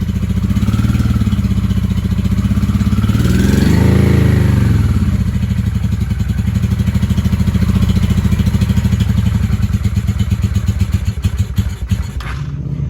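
A 1995 Honda Shadow VLX 600 (VT600CD) V-twin engine running after long storage without its air filter: loud, close, steady lumpy idle with a brief rise in revs early on, then a slightly uneven putter toward the end.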